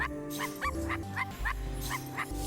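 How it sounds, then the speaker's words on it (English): A dog in a video game gives a quick run of sharp, high yips and barks, about eight short calls in steady rhythm over a low droning game background. "Bark at them a lot."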